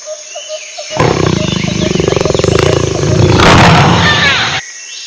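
A jaguar's deep, sustained roar, loud and close, rumbling steadily for several seconds and swelling toward the end before cutting off, with no talking over it.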